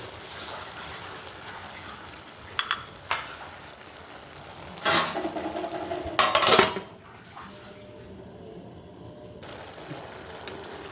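A spoon stirs a simmering curry of elephant foot yam and coconut in a pan, giving a few short scraping, clattering bursts against the metal over a faint bubbling background.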